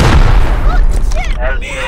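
Gunfire rings out in the video game Rust, a loud burst of booming shots close by, overlapping with excited players talking over each other.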